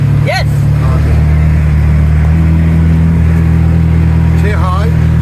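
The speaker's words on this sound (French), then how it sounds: "Je conduis le tuk-tuk" A tuk-tuk engine drones steadily while being driven on the left side of a road in Sri Lanka, loud and close throughout, with people talking over the running motor.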